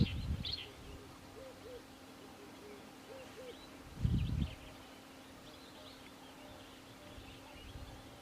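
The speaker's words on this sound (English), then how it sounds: "there's a beautiful amount of different bird species that are calling" Assorted wild birds call in the African bush, faint scattered chirps and cooing notes near and far over a quiet outdoor background, with a couple of low soft rustling thumps.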